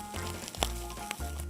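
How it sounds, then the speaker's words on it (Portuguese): Chopped onion and a little garlic hit hot oil in a rice pan and sizzle softly, a quiet crackling fry with a couple of sharper pops. "Agora eu vou entrar com a cebola picadinha, um pouquinho de alho"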